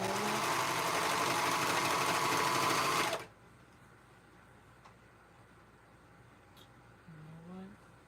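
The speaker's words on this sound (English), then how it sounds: "So I'm sewing these clothes." A sewing machine stitching clothes gives a loud, fast, close whirring rattle for about three seconds, then stops abruptly, leaving quiet room tone with a faint brief sound near the end.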